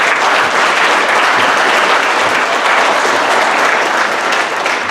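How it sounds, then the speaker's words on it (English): Loud, dense applause from parents and audience at a middle school winter concert, continuous close clapping filling the hall without pause. "So give yourselves a round of applause."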